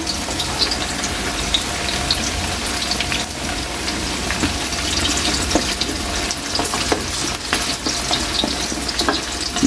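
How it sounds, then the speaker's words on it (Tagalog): Sweet potato pieces frying in hot cooking oil, a dense, steady crackling sizzle like rain on a surface, close and continuous with no talking. "Kaylee, lagay na natin yung kamote. Mainit na yung mantika natin"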